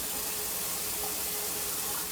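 A kitchen tap runs steadily while squash and tomato are rinsed under it, giving a continuous close-up rush and splash of water with no breaks.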